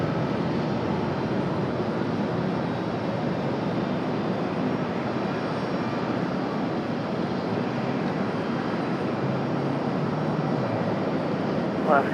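A United jet airliner takes off from runway 23 right at Raleigh-Durham, a loud, steady broadband roar of engines holding evenly for the whole stretch.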